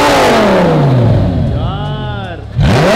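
A Lamborghini engine revs loudly from behind in Dubai, with a deep roar that sweeps up and down, a falling pass, then another sharp rev burst, heard close with voices in the background.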